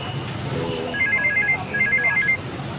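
A mobile phone rings in a Filipino film scene, giving two short bursts of electronic ringtone over a low, hissy room background.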